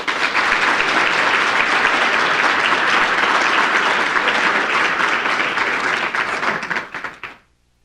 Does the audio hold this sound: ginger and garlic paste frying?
no